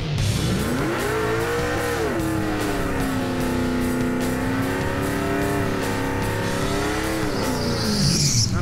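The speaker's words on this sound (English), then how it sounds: "Not a bad burnout at all." A drag racing car, a big-block Chevy Nova, does a burnout: a loud, sustained engine roar with rising and falling revs and tire squeal running through the whole clip.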